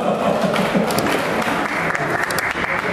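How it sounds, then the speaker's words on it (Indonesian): A lecture-hall audience at a university public talk gives a loud, continuous round of clapping that stays dense and even throughout the short span. "Tepuk tangan dulu."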